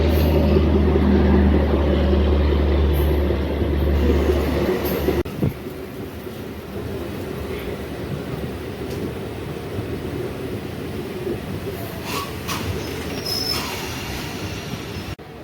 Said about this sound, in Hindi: हमारी डेमो ट्रेन लगभग 2 मिनट के सफ़र के बाद अब सीधे पहुंच रही है अपने अंतिम पड़ाव भगत की कोठी रेलवे स्टेशन पर।